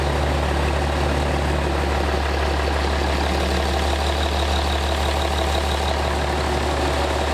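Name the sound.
pro street truck engine starting and idling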